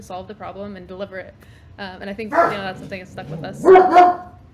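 A dog barks and yaps intermittently beneath a person talking, the barking getting louder in bursts toward the end.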